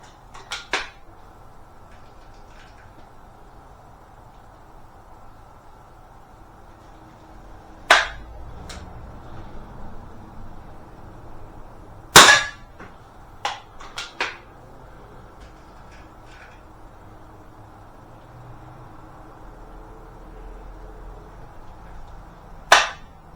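Webley Tempest and Beeman P17 air pistols fire single shots, several sharp, separate cracks spread irregularly over a quiet background with long pauses between them.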